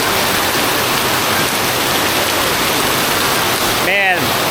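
Steady heavy rain pours down in a Phnom Penh slum, a dense, loud wash of noise with a brief whistling sweep near the end.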